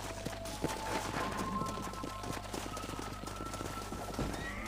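Horse hooves clip-clop at a steady run in the Red Dead Redemption video game, a continuous moderate patter of hoofbeats over a low rumbling background with faint tonal game sounds.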